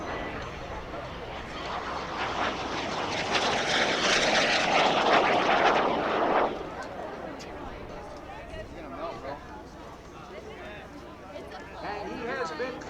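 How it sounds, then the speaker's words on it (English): A SubSonex Mini Jet, a small single-seat jet, makes a low photo pass at an air show: its roar swells loud for several seconds, then drops away to a distant whine over crowd murmur. "the final photo pass of the Mini Jet"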